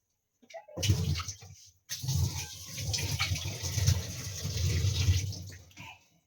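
Running tap water splashes while something is washed under it, a close, fairly soft gushing that starts, breaks off briefly, then continues for several seconds before stopping.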